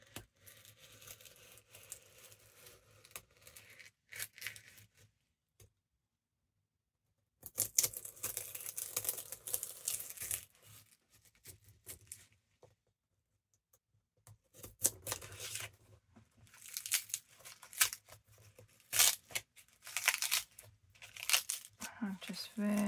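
Pages from a vintage book being cut with scissors: bursts of crisp snipping and paper crinkling separated by silent pauses, fairly close and moderately loud, with a low background hum beneath.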